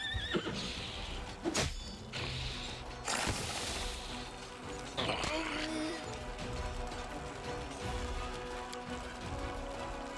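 Horse in Pathfinder: Wrath of the Righteous whinnying repeatedly in loud, shrill bursts, with hoof clatter and game music underneath.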